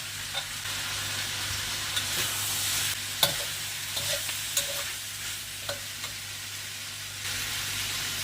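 Potato pieces sautéing in a pan with carrot and curry leaves, a steady close sizzle with scattered spatula taps and scrapes at uneven intervals, a slightly louder knock partway through, and no voices.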